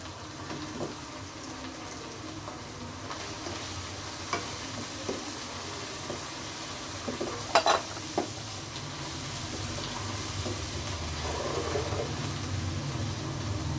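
Spinach paneer masala fries in a pan with a continuous soft sizzle. A spoon stirs and scrapes against the pan in scattered clicks, with no voices.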